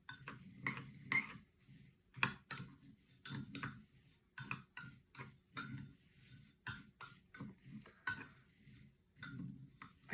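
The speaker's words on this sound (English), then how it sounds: "when you're stirring this clockwise" A spoon stirs green rice in a pot, giving a steady run of light metallic clicks and scrapes in uneven rhythm, close and fairly quiet.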